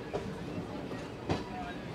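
The Satavahana Superfast Express rolls into Kazipet station with a steady low rumble, broken by a couple of faint wheel clicks over the rails. The sound is soft and continuous.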